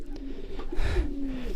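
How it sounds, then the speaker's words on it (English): Pet birds kept in an enclosure alongside a Brahma chicken give a soft, low pigeon-like coo, one short drawn-out call at close range. "Also here I have birds, and also these birds can go out,"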